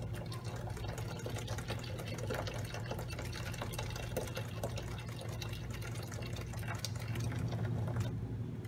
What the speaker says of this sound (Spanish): Lo licuamos 3 veces y esto ya lo vamos a tirar.